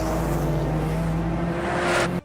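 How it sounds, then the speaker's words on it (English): Car engine revving high on a nearly empty city street in Japan at 2 a.m., a sustained tonal drone echoing from some distance before cutting off abruptly at the end. "somewhere in the distance, the unmistakable sound of a high-revving engine echoes through the city"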